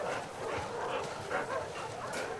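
A dog in The Last of Us Part II whimpering and whining softly over a steady bed of game ambience, a faint, continuous low cry close by.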